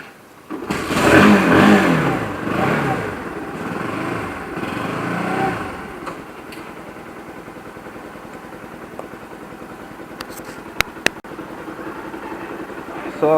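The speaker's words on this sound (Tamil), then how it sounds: "சோதனை ஸ்டார்ட் பண்ணலாம் வண்டியை" A vehicle engine starts with a loud burst and runs rough for a few seconds, then settles into a quieter, steady idle while people talk nearby.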